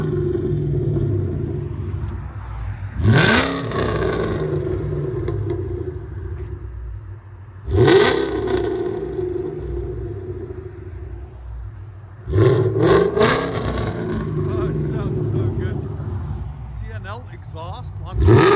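A 2017 Ford Mustang GT 5.0L V8 with long-tube headers, X-pipe and catless exhaust idles with a deep burbling exhaust, then revs sharply three times, each throaty roar rising and falling back to idle.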